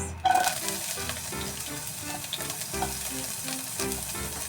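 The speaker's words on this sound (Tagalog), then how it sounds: "magsusutay tayo ng ating onion" Chopped onion sizzles and crackles steadily in hot oil in a pan while being stirred, a close, continuous frying hiss with occasional scraping pops.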